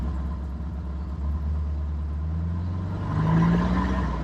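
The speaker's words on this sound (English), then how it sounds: "Flat 4 engine, look, it sounds quite good." A Porsche 356 Speedster's flat-four engine runs steadily with a low throbbing drone, the tone rising slightly as it revs toward the end.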